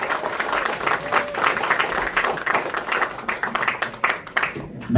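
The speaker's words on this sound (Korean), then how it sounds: "여러분 다시 한번 큰 박수 부탁드립니다." At a Korean election campaign event in Yongin, an audience bursts into applause. The clapping is dense and sustained at close range, rising and falling slightly, and brief voices can be heard in the crowd.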